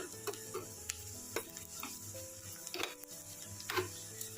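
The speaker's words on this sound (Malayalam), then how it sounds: "നമ്മുടെ പരിപ്പ് കറിക്ക് ഒന്ന് താളിക്കുക" Hot oil tempering for a dal curry sizzles softly while a utensil stirs and knocks against the pan in irregular scrapes and taps, close up, with no voices.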